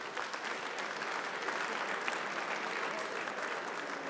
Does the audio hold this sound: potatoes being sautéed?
no